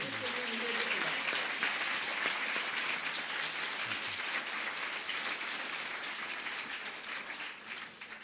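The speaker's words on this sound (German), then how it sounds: "Also, nochmal, Applaus für die Lesung." An audience applauds a reading with sustained, even clapping that fills the room and slowly thins toward the end, while a voice talks briefly over the start.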